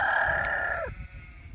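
Ixworth chickens on a free-range UK farm, with a rooster giving a single loud, drawn-out crow close by that ends with a falling tail, followed by quiet farmyard background.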